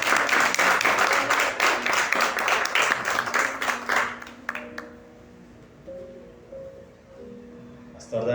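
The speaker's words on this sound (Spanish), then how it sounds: "Den un fuerte aplauso al Señor." Church congregation breaks into loud, steady clapping for several seconds, then the applause fades out abruptly, leaving quiet room tone with faint sounds.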